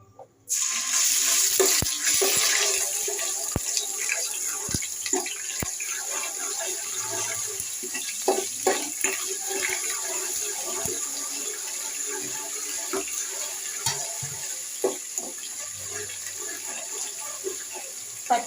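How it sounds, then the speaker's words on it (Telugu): Ginger garlic paste dropped into hot oil for egg fried rice, bursting into a loud, continuous hiss and crackle that starts abruptly and then settles into a steady sizzle with scattered pops, close up and without talk. "ఆయిల్ హీట్ అయిందండి ఫస్ట్గా అల్లం వెల్లుల్లి పేస్ట్ వేసేసుకుందాం"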